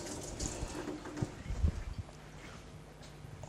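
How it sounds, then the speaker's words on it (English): Hands being washed under a running kitchen tap, a steady splashing flow of water with a few louder bumps and splashes partway through, close and moderately quiet. "So let's wash our hands."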